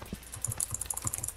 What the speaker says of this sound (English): I'm spam clicking!